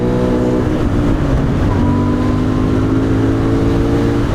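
Royal Enfield Interceptor 650 motorcycle pulling hard away from a junction, a loud, close engine note that rises steadily as the bike builds speed, with steady wind rush and no voices.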